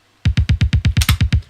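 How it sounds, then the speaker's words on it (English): A Roland 707 kick drum without EQ thumps ten times in an even, quick rhythm. Each hit is a short, punchy low boom with a slight click on top, close and dry, with no talking. "Basically, this is just a 707 kick,"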